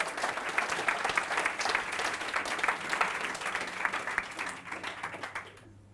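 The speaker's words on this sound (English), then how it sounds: "First of all, big round of applause" A burst of audience applause, many hands clapping at once, sustained and lively before cutting off abruptly at the end.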